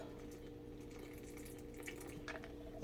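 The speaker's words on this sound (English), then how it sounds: "we're going to start adding water, ice cold water, up to 1/4 cup" Ice cold water poured into flour for pastry dough, a faint steady trickle in a quiet kitchen, with a couple of soft splashes near the end.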